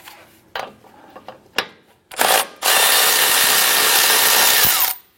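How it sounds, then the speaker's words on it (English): A power tool spins a 17mm socket on a car's upper control arm nut with a steady, loud whirring burst of about three seconds, preceded by a few short clicks and clanks. "Using a 17mm socket, let's go ahead and remove our upper control arm nut here."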